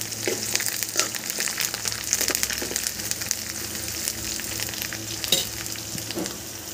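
Spices sizzle and crackle in hot oil, with scraping stirring sounds, close and steady, and no talking.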